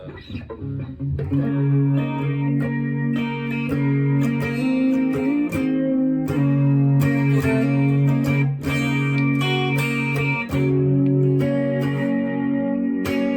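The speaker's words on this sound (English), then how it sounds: "also got a chorus channel here on channel 2 for that more mysterious vibe" Guitar played clean through the chorus channel of a Boss Katana MKII 100-watt combo amp, sustained shimmering chords ringing out loud and close, without any talking.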